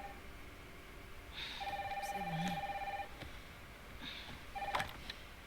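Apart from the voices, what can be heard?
telephone ringing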